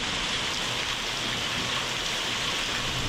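Heavy monsoon rain pours down in Arizona, a dense, steady hiss of rainfall that holds at an even, loud level throughout, with no voices.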